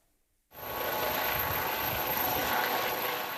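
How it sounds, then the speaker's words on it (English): Rescue helicopters at a Spanish ski resort in the Pyrenees: a loud, steady rotor and engine roar starts abruptly after a brief silence and holds at a constant level, with no talk. "Rescue teams and helicopters immediately swung into action at the Aston resort in the Pyrenees, as Lewis Rees-Jones reports."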